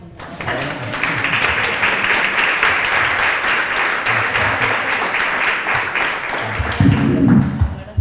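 Audience applause at a literary book presentation, a steady broad wash of clapping sustained for several seconds, with a louder burst near the end and murmuring voices underneath.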